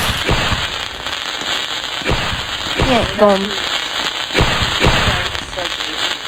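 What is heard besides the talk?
fireworks going off in the Roblox game Brookhaven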